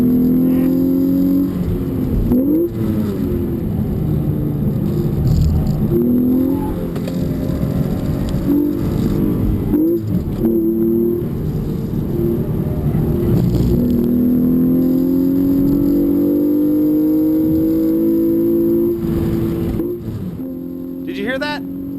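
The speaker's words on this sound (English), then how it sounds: "Listen to the uneven throttle application." A 2013 Hyundai Genesis Coupe 3.8 R-spec V6 on a track lap surges and drops under uneven throttle, the engine note rising and falling loudly inside the car, with some speech over it.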